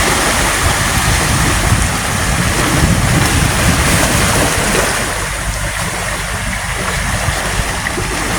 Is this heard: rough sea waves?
yes